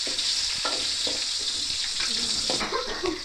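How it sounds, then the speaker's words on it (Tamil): Chopped onions frying in hot oil for a mango fish curry, a steady bright sizzle with occasional stirring scrapes and clinks of a spoon in the pan, close and continuous. "நல்லா வெங்காயம் செவர வதங்கி வரட்டும்."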